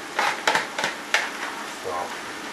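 Rinsed potatoes tumble into a pan of browning ground beef for simple tacos, setting off a steady close sizzle with several sharp scraping stir strokes and clatters up front.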